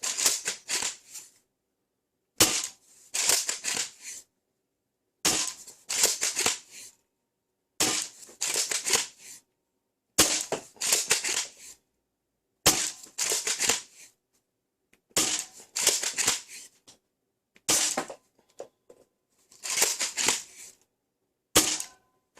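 Jia Nv Hai G01 Valkyrie blaster firing foam max darts: nine sharp, close mechanical shots at steady intervals of about two and a half seconds, each with a short rattling burst and silence between.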